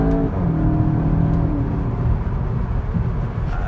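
A 2.0-litre VW Golf 8 GTI with a DSG gearbox drops two gears in quick succession, its engine note swelling and shifting pitch as revs rise, heard steadily from inside the car.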